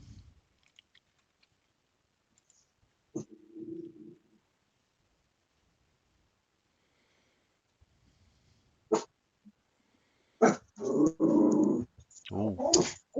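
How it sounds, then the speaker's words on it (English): A small dog barks in a few short, sharp bursts at someone walking outside, heard indoors after long near-quiet stretches with faint scattered noises. "It's my little doggy, Jackson Boo Boo. He's just having a little bark at somebody walking outside"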